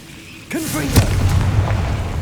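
A Confringo blasting spell explodes in Hogwarts Legacy: a voice calls out, then a sudden booming burst hits, followed by a rumbling, crackling tail at steady loudness.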